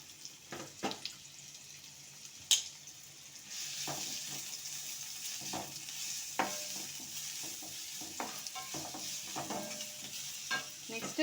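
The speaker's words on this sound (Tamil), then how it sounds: "வெங்காயம் கொஞ்சோண்டு, ரொம்ப வதக்கிடக்கூடாது, எல்லாத்தையுமே கொஞ்சம் க்ரன்ச்சியாக தான் இருக்கணும்." Sliced onions sizzle softly in a hot pan while a spatula scrapes and stirs them in irregular strokes, a steady low frying hiss beneath sharper scraping clicks, with no voices heard.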